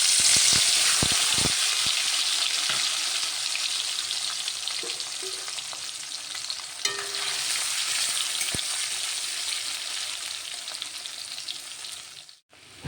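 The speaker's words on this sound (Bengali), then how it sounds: "এবার মাছটা ভেজে নেব।" Dried fish frying in hot oil in a wok, a steady loud sizzle with occasional sharp crackles and stirring scrapes, fading slightly toward the end.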